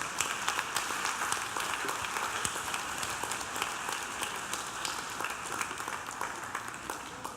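A church congregation applauding during a service: steady, dense clapping from many hands that fills the room at moderate distance and continues throughout.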